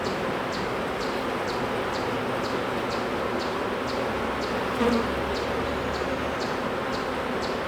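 Honey bees at a hive that has swarmed make a steady, dense buzzing hum close by that continues without a break, with a faint ticking in the background.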